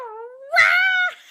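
A person's voice imitates a cat's loud yelling yowl, a single drawn-out wailing cry that rises and swells, then cuts off abruptly, heard close and alone.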